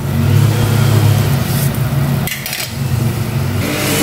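Grass cutter running outdoors, a steady mid-pitched motor drone with a brief dip partway through, heard from a distance without speech.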